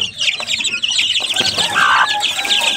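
Two-week-old chicks peep in a busy chorus while hens cluck nearby, loud and close throughout with a brief rising call near the middle.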